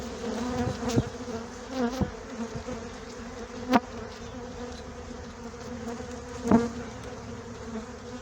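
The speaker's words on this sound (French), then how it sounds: "Alors ça vole beaucoup, c'est des abeilles encore une fois qui ne sont pas les plus douces" Constant buzzing of many honeybees flying close by around an open hive, with a few louder passes sweeping near at intervals; no talking.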